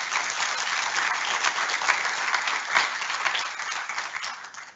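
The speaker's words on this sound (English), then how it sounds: "Let's welcome Pastor Reed with applause." An audience at a Lutheran college commencement service breaks into sustained applause welcoming a pastor, a dense, steady clapping of many hands that fades slightly toward the end.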